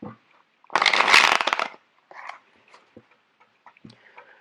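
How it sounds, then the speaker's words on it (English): A burst of tarot card shuffling, a dense papery riffle lasting about a second, followed by softer scattered taps and flicks of cards being handled. "when I shuffle cards out, I'm going to start getting messages"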